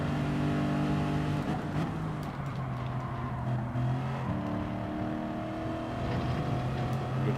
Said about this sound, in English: Good gear change.